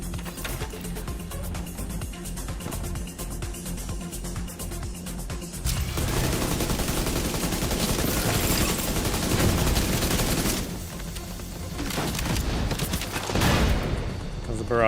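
Heavy gunfire barrage in The Division 2, rapid bursts and booms stacked into a loud continuous roar that swells and eases. Players talk over it.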